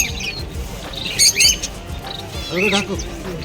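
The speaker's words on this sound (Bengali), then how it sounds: "অনেক ককটেল আছে" Cockatiels give bright, squawky calls in two short bursts, with softer chirps between them, over faint background chatter at a bird market in Dakshineswar.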